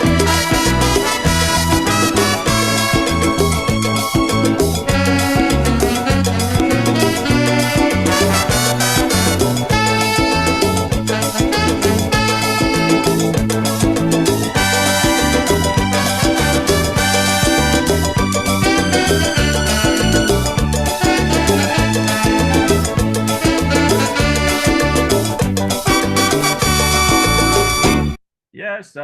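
Calypso song by a late artist plays loud and continuous with dense band instrumentation for nearly thirty seconds, then cuts off abruptly near the end.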